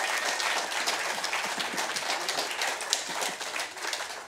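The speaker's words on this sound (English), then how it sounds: "Give a round of applause." An audience claps at a banjo gathering's final concert, a lively, dense round of applause with sharp individual claps standing out, moderately loud and tapering slightly toward the end.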